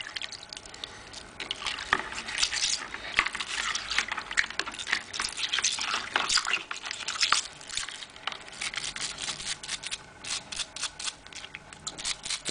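Water splashing and dripping in close, irregular bursts as a waterproof watch is rinsed, with small clicks and knocks in between.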